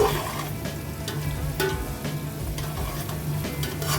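Carrot, cashews and raisins frying together in a pan, a close, steady sizzle broken by repeated scrapes and knocks of a stirring utensil at an uneven rhythm.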